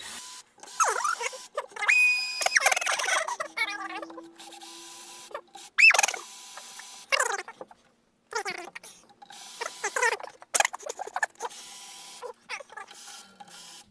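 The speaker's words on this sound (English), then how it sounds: "We're just using a drill because we have one." A power drill winds the tuning pegs of a Rogue RA-090 acoustic guitar during restringing, with short bursts of whirring and ratcheting separated by brief pauses, loud and close.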